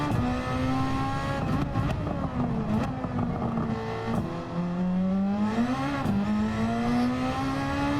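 A race car in TrackMania Nations, shifted down to third, accelerates out of a corner, its engine whine climbing and dipping through gear changes, loud and close, with no talk over it.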